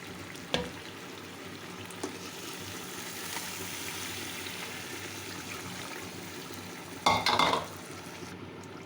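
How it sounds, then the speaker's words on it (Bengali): Beef curry fries in a pan as water is added, giving a continuous hiss and sizzle with scattered spoon or pan knocks and a louder splashing, bubbling burst toward the end. "এবার জল দিয়ে দেব।"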